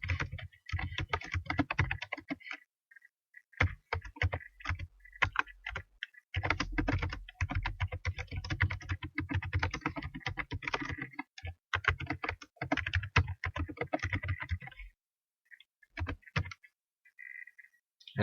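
Rapid typing on a computer keyboard, dense bursts of close clicking keystrokes separated by brief pauses, quiet and alone.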